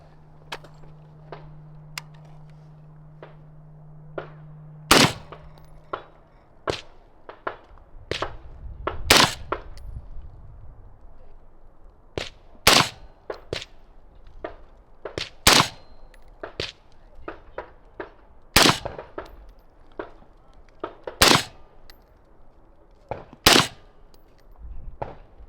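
A rifle fires a string of 55 grain 5.56 rounds outdoors, sharp loud cracks spaced a second or two apart among fainter distant shots and small clicks, with a brief low hum early on.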